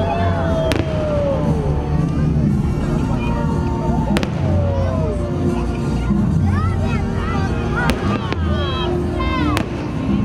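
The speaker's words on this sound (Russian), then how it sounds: "Финальной точкой торжества стал праздничный салют, который радовал горожан на протяжении нескольких минут." A festive fireworks display over a city celebration for Independence Day in Brest, with repeated sharp bangs and crackling bursts over a continuous hubbub of crowd noise, heard from nearby.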